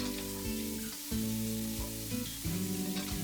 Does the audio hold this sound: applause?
no